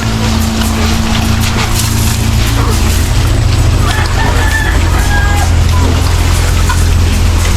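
Chickens clucking and a rooster crowing amid loud, rumbling background noise, with scattered bird calls throughout.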